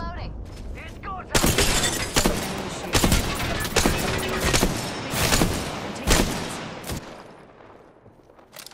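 Shields cracking and shattering during gunfights in the video game Apex Legends, several sharp loud bursts mixed with rapid gunfire and a voice talking over it.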